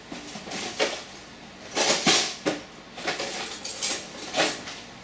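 A wooden cutting board is pulled out and set down in a home kitchen, with several scattered knocks and clatters of board and utensils, moderately close, with no talk.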